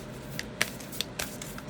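Tarot cards being shuffled by hand, with soft, irregular riffling clicks and card snaps spaced through a quiet room, no talking.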